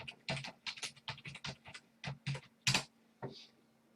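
A sudo password is tapped out on a computer keyboard during an Ubuntu 22.04 setup in a virtual machine, about a dozen distinct keystrokes in an uneven rhythm ending with a harder keypress, close and clear, with no talking.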